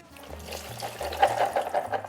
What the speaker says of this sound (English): Drain your chickpeas, give them a rinse.